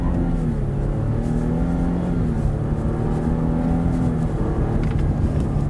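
A Ford F-150 pickup with a 2.7-liter EcoBoost engine accelerates hard, its loud, steady engine drone rising in pitch through each gear as it shifts upward, heard from inside the cab.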